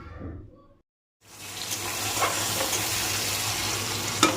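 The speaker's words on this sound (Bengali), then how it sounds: "তেলটা গরম হয়ে যাওয়ার পর দিয়ে দিলাম ছোট চামচের এক চামচ গোটা জিরে দুটো তেজপাতা আর দুটো মাঝারি সাইজের পেঁয়াজ কুচি" Whole cumin, bay leaves and chopped onion drop into hot oil and set off a steady, close hiss of frying that swells after a brief quiet gap, with a faint voice heard at the very start.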